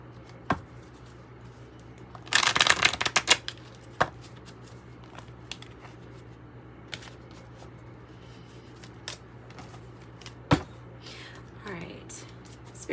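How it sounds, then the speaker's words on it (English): A tarot card deck is shuffled in one brief, crisp riffling burst lasting about a second, followed by scattered faint clicks and taps in a quiet room. "before we pull from this tarot deck"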